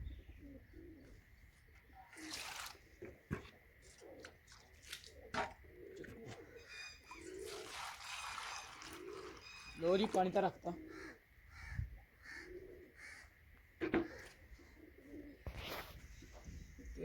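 Pigeons coo and rustle inside their coop, with soft repeated coos, wing flutters and scattered clicks, fairly faint and close, while someone speaks briefly in between.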